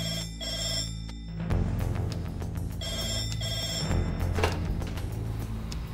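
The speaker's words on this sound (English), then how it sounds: "when that red phone rings, we're ready for action." A red telephone at an air ambulance base rings loudly and close, with repeated electronic bell tones sounding in steady bursts and no voices heard.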